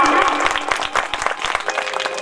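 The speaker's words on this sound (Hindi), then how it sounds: "एक बार भैया जी के लिए जोरदार ताली" A crowd at an outdoor religious storytelling gathering in a village claps together, a brisk, loud burst of many hands with scattered voices mixed in.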